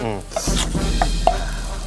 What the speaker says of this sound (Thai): ช้อนโต๊ะพุนนครับ ได้เลยครับพี่ไปผัดเลยนะ